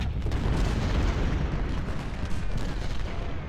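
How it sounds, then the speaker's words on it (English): Artillery bombardment in Ultimate General: Civil War rumbles as a continuous heavy barrage of booms and distant gunfire, dense and rolling with no clear gaps. "And there's the artillery bombardment."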